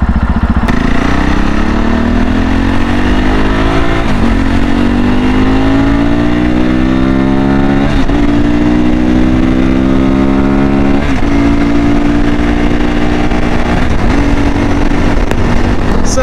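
A CSC RX4 motorcycle is ridden along a road, its engine loud and close, climbing in pitch through the gears with regular shift drops every few seconds under steady wind noise.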